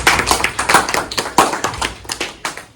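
Delegates at a Model UN debate clap after a directive passes, a short burst of fairly loud, close hand claps in an uneven rhythm, with no talking over it.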